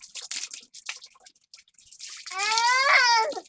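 Water sprays hard from a hose pipe partly blocked by a finger, a rushing hiss with a rising, squealing whine near the end, preceded by short scattered splashes.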